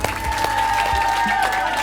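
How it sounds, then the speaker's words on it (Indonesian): Audience applause at a gathering in Bali about plastic waste, a short, dense wash of clapping with crowd murmur mixed in, moderately loud and continuous. "Kasih tepuk tangan buat Mbak Dewayu"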